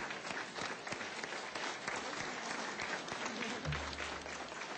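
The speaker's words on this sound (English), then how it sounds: "applause." A standing audience at an evening legislative testimony hearing gives a sustained round of applause, faint and distant-sounding, steady clapping throughout with a low hum appearing near the end.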